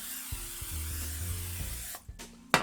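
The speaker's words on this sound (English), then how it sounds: "Let's hit that pan with some Pam." Pam cooking spray hisses onto a skillet before an omelette, a steady close spray lasting under two seconds, followed by a couple of short sharp bursts.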